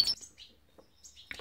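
Hybrid goldfinch cage birds in an aviary give a few short, bright chirps, spaced apart with quiet gaps and a closer burst at the end.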